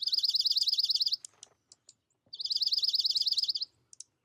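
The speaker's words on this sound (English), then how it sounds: "Enjoy these dark-eyed juncos now and through the winter." Dark-eyed juncos give bright, rapid trilling twitters in two long bursts, each followed by a few scattered single chirps, close and clear against a quiet outdoor background.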